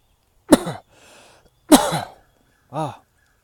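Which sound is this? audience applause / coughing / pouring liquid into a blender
coughing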